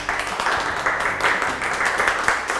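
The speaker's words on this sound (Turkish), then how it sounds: "Alkışlarla." Brief applause welcoming the owner of a home-cooking studio, a short burst of clapping from a few people with a loosely rhythmic, pulsing beat.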